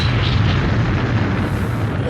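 Thor's Hammer fortress cannon firing in the Legend of the Galactic Heroes anime: a loud, deep roaring rumble that holds steady and unbroken for the whole moment.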